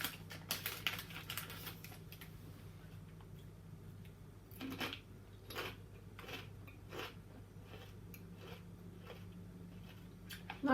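Crunching on McCoy's cheese and onion potato crisps made from potatoes and sunflower oil: a string of sharp, close crackly bites and chews in bursts, loudest early on, then sparser crunches over a low steady hum.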